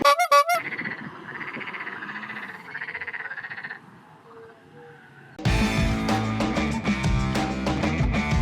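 Several frogs croak in a steady pulsing chorus for a few seconds, then loud music abruptly takes over.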